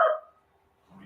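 A single loud dog bark at the start, followed by near silence and then faint low rumbling and background noise.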